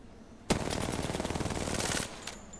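Shooting at enemies in a video game produces a sudden sustained burst of rapid automatic gunfire lasting about a second and a half, loud and close, followed by a brief quieter shot and then silence.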